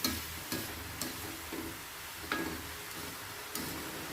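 Chopped onions fry gently over low heat in a pan with turmeric and salt, a soft steady sizzle with occasional light clicks of stirring, no voices.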